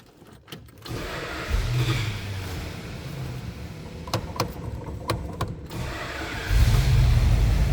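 A 1976 Dodge B200 Tradesman Extended van engine cranks briefly, catches, and settles into a loud rumbling idle with a few light revs and scattered clicks nearby.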